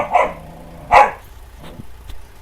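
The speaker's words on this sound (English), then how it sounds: "Now she's decided it's time to wrestle with the older dog." A little dog gives two sharp barks while wrestling playfully with an older dog, followed by softer yips and scuffling, close and clear.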